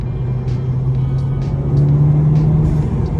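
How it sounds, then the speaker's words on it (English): A Vauxhall Corsa VXR engine hums steadily under road noise, with faint intermittent whooshing turbo hisses riding over the drone. "Even has all the turbo noises as well."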